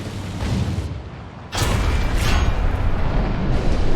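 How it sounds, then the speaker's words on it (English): An IS-3 tank cannon fires in War Thunder, one sudden heavy boom that cuts into a rumbling engine-filled battlefield and leaves a sustained loud roar afterward. "IS-3 fired"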